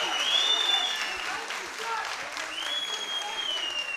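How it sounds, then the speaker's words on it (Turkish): Applause rises from the crowd at a Night of Warriors fight event, a steady wash of clapping that holds evenly for a few seconds at moderate distance, without a clear voice on top. "Şeref Birer için büyük bir alkış alabilir miyiz arkadaşlar?"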